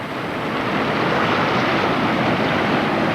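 Whitewater river rapids roar in a steady, loud broadband rush as rafts paddle through, continuous and close with no voices over the churning water.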